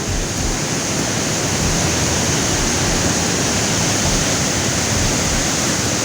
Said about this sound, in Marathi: या रोडच्या पलीकडे जो वॉटरफॉल होता त्याच्यातलं ते पाणी बघा